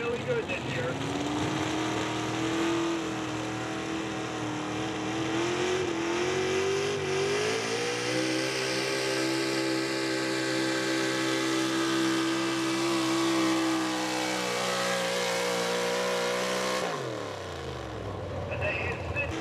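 Big block engine in a 1970 Ford pulling truck at Needmore, Pennsylvania, roaring continuously with rising revs for about seventeen seconds before cutting off abruptly, loud and close with a commentator's voice over it.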